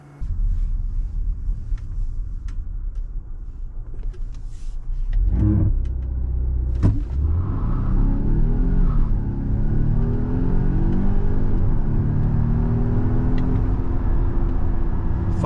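A 2024 Volvo XC90 T8 plug-in hybrid SUV engine rumbles at idle, then revs hard and accelerates strongly from 0 to 60, pitch climbing through several gear shifts, loud and close throughout.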